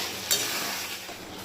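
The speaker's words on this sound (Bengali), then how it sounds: "ঝোল ফুটে এসেছে" Chicken masala gravy cooked with little water bubbles in a pot, giving a steady, close hiss of simmering with a brief clink near the start and no voices.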